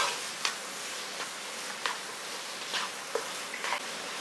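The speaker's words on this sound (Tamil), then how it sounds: "இது நல்லா அதை வதக்கி விடுங்க" Poha being sautéed and stirred in a pan for a sweet, a soft steady sizzle with a few sharp scraping strokes of the spoon spread through, close by and with no one talking.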